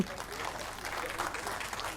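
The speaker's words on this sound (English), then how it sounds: "So big round of applause for that." Audience applause at a tech conference session, a steady spread of clapping lasting throughout, moderately loud with some talk mixed in.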